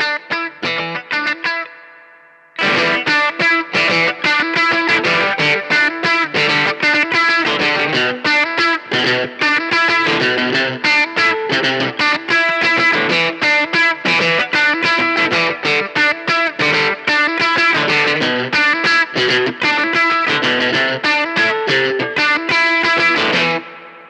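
An electric guitar played on the bridge pickup through a Boss DS-1 distortion pedal, loud, sustained, crunchy distorted chords and riffs strummed steadily for over twenty seconds after a brief cleaner opening phrase and a short gap.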